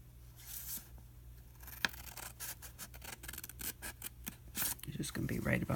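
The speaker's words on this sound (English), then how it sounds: "I'm going to cut the other side down to the same point" Scissors snipping through a paper tag in short crisp cuts, close and quiet, with rustles and scrapes of paper between them.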